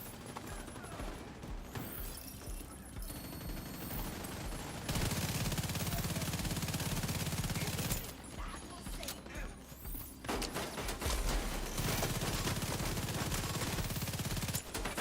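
Turret and weapon gunfire in the shooter game The Division 2, rapid automatic bursts layered with game effects and music, continuous and fairly loud over the whole stretch.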